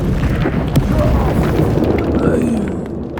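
A fiery Incendio spell blast from the Hogwarts Legacy game, a loud sustained booming roar that rolls on and slowly fades, with a voice speaking over part of it.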